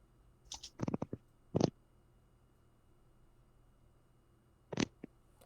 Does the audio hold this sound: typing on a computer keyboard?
yes